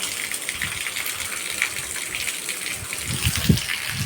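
After heavy rain in a village, runoff gushes and splashes nearby in a continuous rushing spray, with brief rattling knocks near the end.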